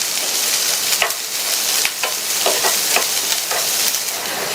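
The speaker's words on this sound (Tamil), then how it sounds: "இந்த வெண்டைக்காயை 5 நிமிஷத்துக்கு இந்த எண்ணெயிலேயே வதக்கிக்கங்க" Sliced okra sautéing in oil in a pan, a steady close sizzle with intermittent stirring scrapes and spoon knocks throughout, no voices.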